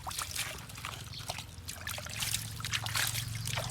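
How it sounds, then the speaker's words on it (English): Water is poured over a sand-hauling tronton truck to wash it, a steady wet trickle and splash running continuously and fairly close for the whole stretch, with no talk over it. "Firstly, I have to put some water to see some part"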